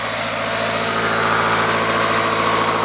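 A 2005 Honda S2000 engine idles steadily up close with a rough, continuous rumble and a faint rhythmic pulsing. No voices are heard.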